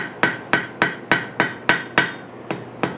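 A blacksmith's hammer strikes a forge weld on iron at welding heat, with about ten loud, ringing blows landing in a steady, even rhythm close by.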